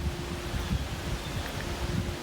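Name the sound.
strong wind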